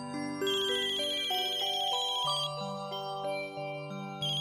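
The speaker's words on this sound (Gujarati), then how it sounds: "ફોન વાગે જટ આપ" A phone ringtone plays a bright electronic melody of stepped tones, loud and close, running continuously without voices.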